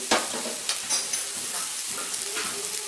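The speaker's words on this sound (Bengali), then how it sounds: "এখানে আমি আদা রসুন পেস্টটা দিয়ে দিচ্ছি ওয়ান টিস্পুন দিচ্ছি এখানে কাঁচা লঙ্কা কুচি" Ginger garlic paste and chopped green chili fry with softened onions for soybean cutlets, giving a continuous close sizzle with several sharp stirring clatters and scrapes of a spoon in the pan.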